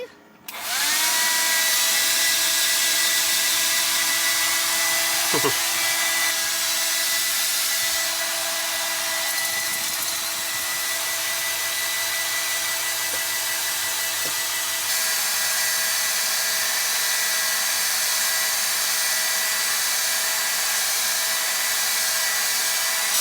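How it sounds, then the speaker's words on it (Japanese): A hair dryer whines steadily and loudly inside a camper van in snowy -3°C Niigata, switching on at the start and droning continuously, with brief faint voices and small knocks beneath it. "めっちゃドライヤーだよ"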